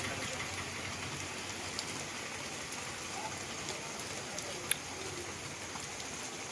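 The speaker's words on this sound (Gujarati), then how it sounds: "અમારા ગામમાં ધૂમ ધોકાર વરસાદ ચાલુ છે સવારમાં" Heavy morning rain pours steadily over a village, producing a dense, even hiss with occasional sharper drops and no speech.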